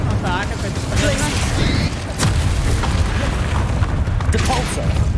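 Explosive Confringo spell blasts in Hogwarts Legacy, a loud booming burst landing amid dense, continuous combat noise with a voice shouting spell names over it.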